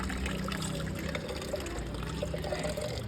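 Water is collected and poured for a tomato plant, a continuous close trickle and splash that runs steadily throughout with no speech.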